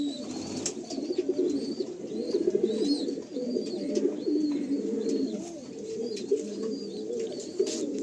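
Tournament-quality pigeons coo repeatedly in low, rolling calls, several birds overlapping at close range, with a few sharper chirps above them and no talk.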